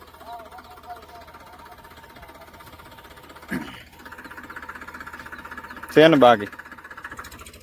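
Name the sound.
heavy tractor engine running in a field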